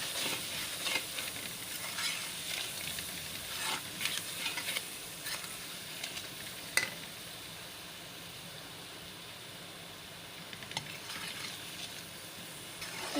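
Spices for chicken karela are stirred and fried in a pan, a steady close sizzle with scraping stirs and occasional clinks of a spoon against metal, continuous and moderately loud, with no speech.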